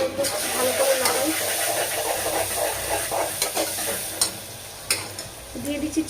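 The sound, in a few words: stirring spices in a pan for khichuri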